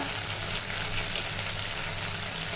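Whole garam masala spices sizzling in hot oil in a kadai on a gas flame, a steady, close, full hiss of frying that continues evenly throughout without speech.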